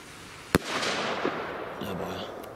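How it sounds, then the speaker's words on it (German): A firework shell, likely a large aerial ball shell, bursts overhead with one sharp loud bang, followed by a crackling tail and faint voices in the background. "Das sah aus wie eine Kugelbombe da oben."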